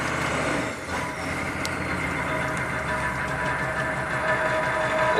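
A Chevy 6.5 turbo diesel truck engine runs in gear with a steady, loud, close clattering drone and uneven low rumble, holding a constant pitch for several seconds with no talking.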